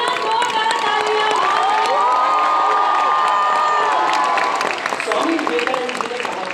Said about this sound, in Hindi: एक बार पुनः जोरदार तालियां।